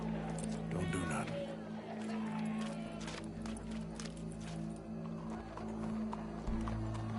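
Horse hooves clip-clop at a steady walking pace in Red Dead Redemption II, fairly close, with voices and game background noise running underneath.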